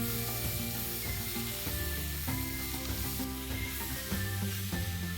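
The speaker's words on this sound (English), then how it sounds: "Now let's add 3 medium onions that I have finely chopped." Three medium finely chopped onions sizzle loudly and steadily in hot oil for a paneer masala gravy, close up, with a utensil stirring and scraping through the pan and no voices.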